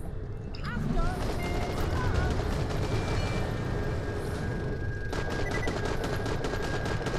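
Sustained automatic weapon fire rattles on without pause in the shooter Borderlands: The Pre-Sequel during a fight with a large creature, loud and dense, with a player talking over it.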